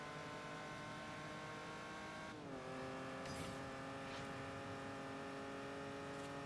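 Race cars overtaking in Forza Horizon, with a close engine droning steadily at high revs and a sudden pitch drop as one car shifts or passes, joined by faint tire and road noise.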